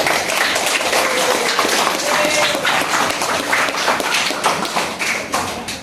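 Loud, dense applause from a class of students, steady clapping throughout with no pauses.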